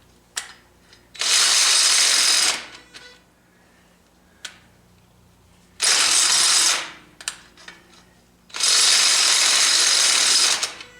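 Three long bursts of a cordless drill with a low battery whirring, each lasting a second or two, separated by quiet gaps with small clicks and handling noises, while fitting a receiver hitch to an International 2444 tractor.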